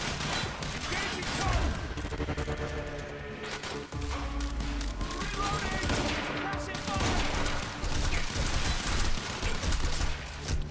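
Sustained machine gun fire in a video game, dense rapid bursts that run almost continuously and loud, with brief dips between volleys and some thuds and crashes mixed in.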